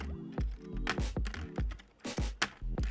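Keys with Akko Haze Pink switches on a Tiger 80 Lite keyboard with a PC plate and full foam are typed in irregular bursts, close and clear, each press a distinct muted clack.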